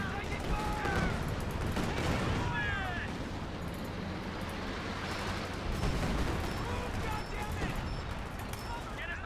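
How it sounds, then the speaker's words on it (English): Artillery barrages and gunfire from a 4v4 Company of Heroes 2 match rumble on without pause, with dense overlapping blasts and crackling shots and players talking throughout. "just keep firing all the artillery on mid"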